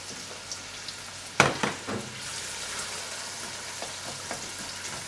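Chopped onions hit a hot pan for a masala fish curry, with a sudden sizzle that settles into a steady, even frying hiss, close and with no talk.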